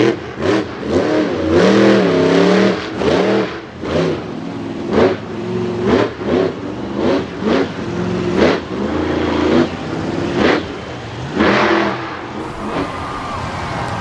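Race truck driven hard around a dirt race track, its engine revving up and down in repeated loud bursts with brief lifts between throttle pushes, close and continuous throughout.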